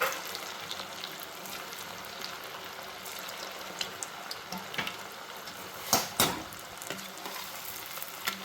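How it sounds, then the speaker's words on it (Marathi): Potato and Maggi noodle kofta deep-frying in hot oil, a steady crackling sizzle with scattered louder pops and spatters, close by and without talk. "आता हे जे कोफ्ते आहे हे आपण फ्राय करायला टाकूया।"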